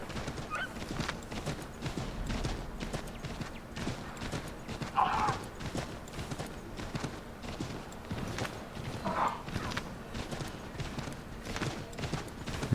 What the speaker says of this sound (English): o cavalo corre pouquinho também, pô